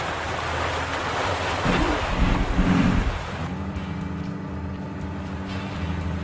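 Ocean waves wash around a ship in the ARMA 3 video game, a steady close surf roar with a low engine hum underneath and a slightly louder surge midway.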